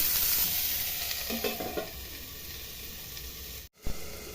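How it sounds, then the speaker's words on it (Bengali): Broccoli and potatoes fry in a pan over medium heat, a steady close hiss and sizzle with a few soft stirring scrapes, then a brief break before the sizzle returns; nobody speaks. "লবণ দেওয়ার পরে এটা হালকা নেড়ে ঢাকনা লাগিয়ে রাখতে হবে।"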